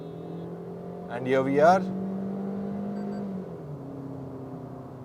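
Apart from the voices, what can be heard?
Maruti Brezza car accelerating hard, engine revving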